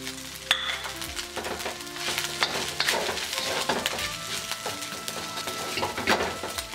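Fried rice with broccoli being stirred in a pan, a steady sizzle under clinks and scrapes of the utensil against the pan, with no voices.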